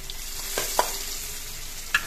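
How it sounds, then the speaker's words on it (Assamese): Half-crushed garlic drops into hot oil in a pan after fish has been fried. It gives a soft, steady sizzle with a few sharp spatters and a stirring scrape. "এতিয়া নহৰুখিনি ইয়াত দি দিছোঁ, আধা থেলিয়াকৈ দিছোঁ।"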